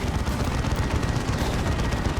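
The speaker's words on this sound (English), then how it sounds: "Plasma Cannon misses." Plasma cannon fire in the Dawn of War 2 strategy game during a 3v3 battle, a dense, loud continuous burst of booming blasts and rumble lasting a couple of seconds.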